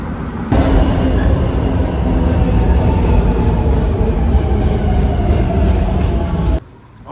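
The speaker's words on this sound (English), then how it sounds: "I just got off the train at South and Broad Street" Subway train at South and Broad Street station in Philadelphia, a loud continuous rumble of a railcar rolling and its wheels on rails, with a steady high squeal, cutting off abruptly near the end.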